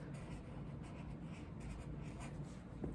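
Pen tip scratching X marks across a drawing of a cactus on paper, a steady close scribbling texture that runs continuously without a break.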